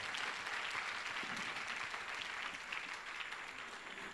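A church congregation applauds to acclaim the Lord during a French-language sermon, a dense steady clapping that fills the space and continues unbroken from start to finish.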